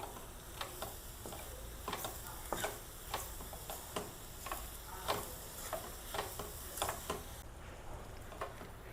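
Nendran banana and grated coconut get stirred in a pan, a spoon scraping and tapping in a regular rhythm over a soft continuous sizzle, close and fairly quiet.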